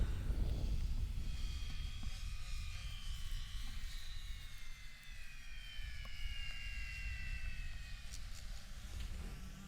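Small fixed-wing Windracers swarm aircraft come in to land, a steady engine drone with rising and falling whine that carries on evenly throughout, moderately distant and under wind noise.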